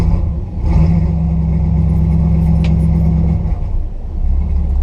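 A 1971 Ford F-250 truck engine idling roughly just after a cold start, a steady loud low rumble with an uneven, lumpy pulse and no talking.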